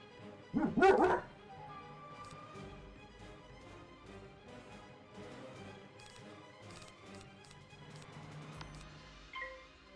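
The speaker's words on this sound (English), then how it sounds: "sorry about the sudden dog barking" A dog suddenly lets out a short burst of loud, close barks near the start, followed by softer yips and whimpers over quiet game sounds.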